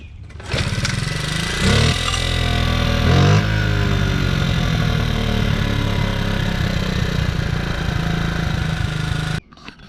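The small engine of a 1996 Honda Z50R motorcycle, freshly rebuilt carburetor, starts and runs steadily close by, with a couple of brief throttle blips early on before it cuts off near the end.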